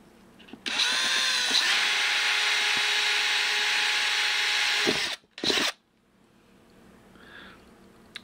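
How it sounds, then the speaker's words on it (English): A power drill fitted with a wood bit bores steadily through a plastic lid for about four seconds, a loud, even whine that stops abruptly, followed by a short burst and then quiet handling noise. "this is a wood drill bit. So the tip grabbed into the plastic"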